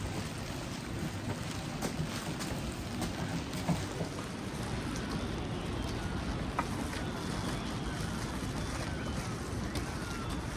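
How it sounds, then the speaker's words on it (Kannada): Light rain falls on the Kedarnath trekking route in a steady, close hiss with scattered soft patter, mixed with wind rumble against the microphone, continuing for the whole stretch without clear voices. "ಲೈಟಾಗಿ ಮಳೆ ಬರ್ತಿದೆ."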